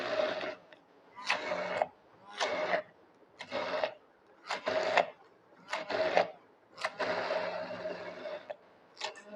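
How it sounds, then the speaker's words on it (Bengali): Blender whirring in repeated bursts as pointed gourd peel is blended into a bharta, roughly eight short pulses separated by brief pauses, loud and close with no talking. "আবার আমি এটাকে আরেক দফা চালাবো বা ব্লেন্ড করব।"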